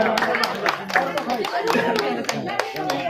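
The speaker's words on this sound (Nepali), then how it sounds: "जोरदार तालीको साथ स्वागत गर्छ एकदम ताली लगाउँछ" Guests clapping at a birthday celebration in a hotel, a loud close run of fairly regular hand claps mixed with excited talking voices.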